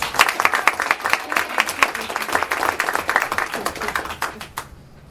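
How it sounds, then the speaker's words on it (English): Audience members at a school board of education meeting applaud students with brisk, overlapping claps that keep up steadily before stopping abruptly near the end and leaving quiet. "They can listen to the applause in the minutes."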